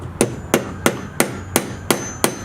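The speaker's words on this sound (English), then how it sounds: "Smash the nail down a little bit more." Seven evenly spaced, sharp hammer blows strike a nail over a metal pipe, each ringing briefly in a steady rhythm, close and clear with no talking.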